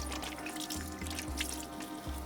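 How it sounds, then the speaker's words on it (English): Hands being washed under a running tap in a van, a quiet steady water flow with splashing and intermittent low gurgling pulses, close and faint, no talking. "Steps 8 and 9, put away and wash hands vigorously."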